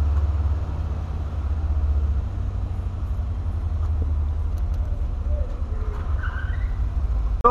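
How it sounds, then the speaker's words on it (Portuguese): Air pumping into a spare car tire of a Volkswagen Polo, up to 34 psi, runs as a steady, loud, unbroken mechanical hum with broadband hiss throughout, no talking over it. "enchemos o pneu aí, colocamos 34 libras, né, só pra ficar de step"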